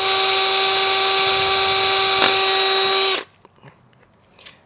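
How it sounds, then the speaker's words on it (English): Power drill boring out a hole for a Redarc Tow-Pro Liberty brake controller mount in a 2021 Hyundai, a loud steady whine held for about three seconds before cutting off abruptly into near quiet. "So I'll get this drilled out real quick."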